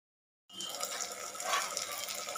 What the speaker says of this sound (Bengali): মশলার মধ্যে আমি সামান্য জল অ্যাড করলাম।